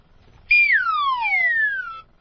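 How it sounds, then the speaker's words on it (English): A single wacky slide whistle effect in a radio promo, one clean descending glide lasting about a second and a half, loud and alone against silence. "A wacky whistle."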